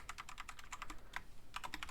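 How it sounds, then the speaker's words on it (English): Rapid clacky keystrokes on a gaming keyboard, a quick burst of typing with a short pause, then more taps, near and crisp. "I'm on a gaming keyboard, which isn't that good for typing"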